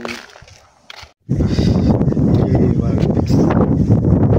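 Loud buffeting wind roars into the microphone, a heavy rumbling gust that starts abruptly after a quieter moment and continues steadily, with voices faintly underneath.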